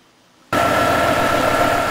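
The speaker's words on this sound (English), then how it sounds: "here's my V6 MG running" MG ZT car with a V6 engine idling, starting abruptly after a quiet moment and then holding a loud, steady, close rumble with no talking.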